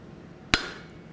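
A single sharp, ringing hammer blow on hot steel while drifting the eye of a forged hammer head, close and loud, fading quickly in a quiet forge.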